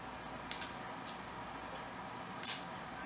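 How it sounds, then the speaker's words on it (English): A knife cuts up onions for meatloaf in a handful of soft, sharp clicks against a board, spaced unevenly and quiet, close by with no voices. "Just gotta cut up onions."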